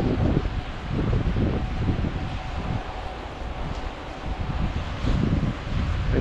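Strong wind buffets the microphone outdoors while someone fishes in bad weather, a steady low roar with gusty surges throughout and no talk over it.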